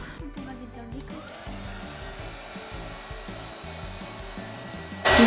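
Hair dryer blowing steadily as it heats a transfer onto a candle, a continuous loud whir with low rumbling, growing louder right at the end.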